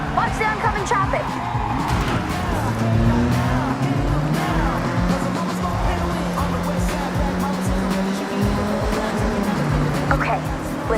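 Cars race through city streets in the Forza Horizon video game, engines revving in rising and falling sweeps with tyre noise, loud and continuous throughout.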